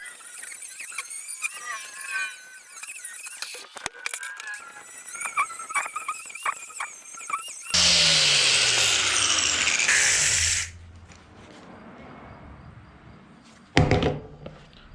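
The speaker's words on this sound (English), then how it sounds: "Locked in just like a grinder, and man, these things really take off some metal, the high grit ones" An angle grinder with a high-grit flap disc bites into rusted steel on a snow plow, giving a loud, harsh grinding burst of about three seconds. Quieter metallic clatter and handling come before it, and a short final screech follows.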